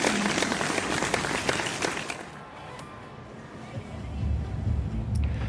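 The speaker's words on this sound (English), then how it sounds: "let's hear a huge round of applause for these wonderful ladies" Crowd applause and cheering from spectators at the 2018 Bengaluru 10k women's elite race, strongest at first and then settling into a lower murmur of outdoor crowd noise with faint scattered clapping.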